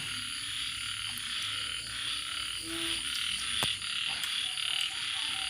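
Many frogs croak steadily in a frog pond flooded after a storm and heavy rain, a dense, continuous chorus with a constant hiss of rain or running water behind it.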